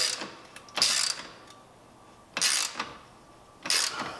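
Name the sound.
tightening a clamp on a Honda Civic Si intake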